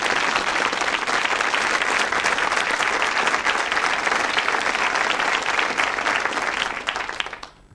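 A studio audience at a 1974 British television whodunnit game show applauds the suspects, a loud, continuous wash of clapping from the whole crowd that fades out over the final second.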